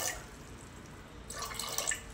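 Water poured into a pot of black chickpeas, starting as faint dripping and then becoming a louder, steady splashing pour halfway through.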